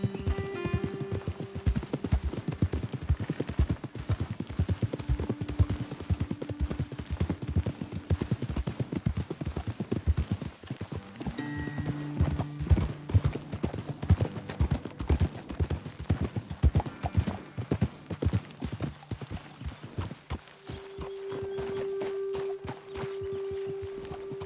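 Horse hooves clip-clopping in Red Dead Redemption 2, a steady rhythmic walking gait of several horses on a dirt path, with occasional snorts and faint game music tones underneath throughout.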